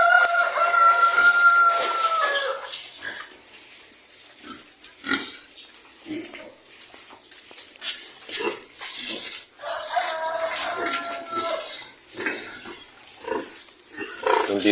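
Chickens on a small backyard farm that also keeps pigs and turkeys: intermittent clucking and squawking calls scattered through, alongside rustling and grunting noises, moderately close, with a rooster-like crow early on.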